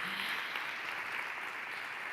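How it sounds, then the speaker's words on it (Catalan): Audience applause at a Catalan Parliament ceremony for World Blood Donor Day, a steady wash of clapping at moderate distance that holds evenly throughout. "Un aplaudiment."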